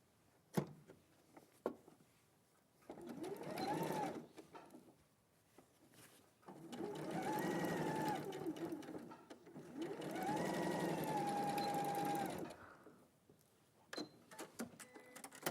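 Domestic sewing machine stitching a medium blue denim garment, running in several sustained bursts with a whirring motor hum, separated by short pauses, clicks and handling noises, fairly close.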